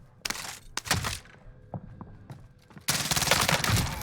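Video-game gunfire in a few sharp bursts: scattered single shots early, then a loud, dense volley near the end, with quiet gaps between.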